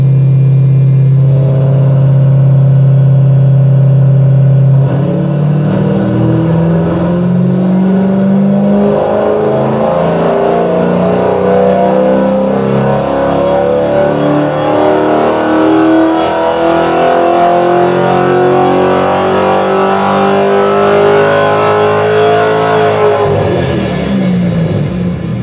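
A race car engine on a roller dynamometer with a large cooling fan holds a steady loud idle, then revs in one long sustained pull that climbs steadily in pitch for almost twenty seconds before dropping off sharply.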